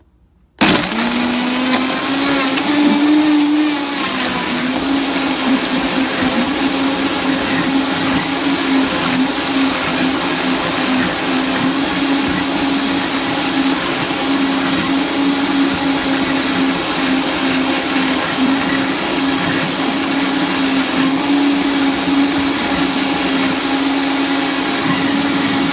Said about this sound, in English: we're going to turn on the blender here, the Vitamix